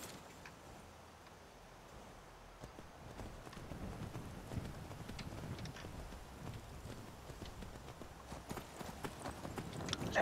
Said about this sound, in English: Oh wow, here's a horse just standing around.